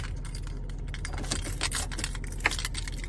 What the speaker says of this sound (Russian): Дальше вставляем ключ в замок зажигания,